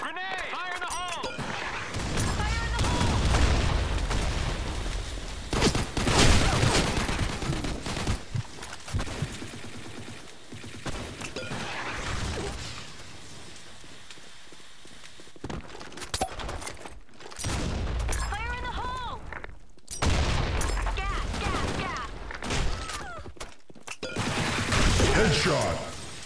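Gunfire bursts and a grenade blast in the competitive shooter Blackshot, loud, dense volleys filling stretches of the round with brief lulls between, and game announcer voices heard over the shooting.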